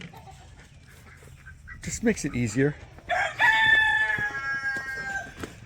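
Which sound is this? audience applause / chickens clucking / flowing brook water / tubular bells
chickens clucking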